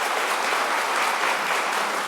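A studio audience applauds steadily throughout, a dense, even clapping that stays loud from start to finish with no voices over it.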